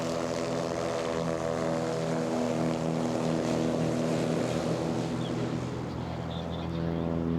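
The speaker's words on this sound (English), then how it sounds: "you can see that lighter plane on the inside just out accelerating that heavy 182" A light plane and a heavier Cessna 182 accelerate side by side in a STOL drag race, their propellers and engines droning loud and steady throughout as a sustained roar with a strong tonal hum.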